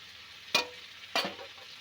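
Spices and potatoes frying in a pan, two short scraping stirs breaking through a low sizzle, close and without voices.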